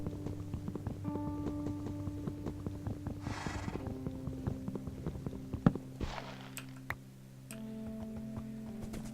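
Horses clip-clop somewhere off to the side in a Lord of the Rings video game, with light, irregular hoof ticks and clicks scattered over a steady backdrop of droning tonal game music.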